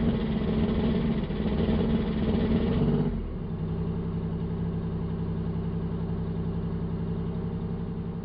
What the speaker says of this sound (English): Listen to that Warhog engine.